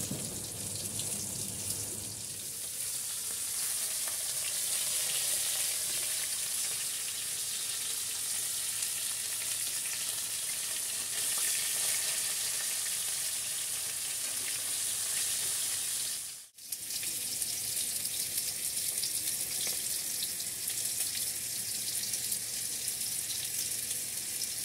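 Fish fat and innards frying in hot oil give a steady, fairly quiet sizzle and hiss throughout, with a brief dip partway through and no talk.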